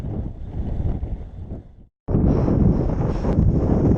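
Headwind blowing on cyclists climbing a Pennine road, loud blustery wind buffeting the microphone with a brief dropout midway before the roar returns.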